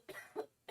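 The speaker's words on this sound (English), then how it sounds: "Oh, she's coughing." A woman gives several short coughs close by, three quiet bursts in under a second with brief gaps between them, heard alone.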